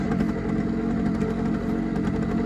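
Paramotor engine running on the ground before takeoff, a steady loud mid-pitched buzzing drone with a fine clattery texture and no throttle change, close by and alone.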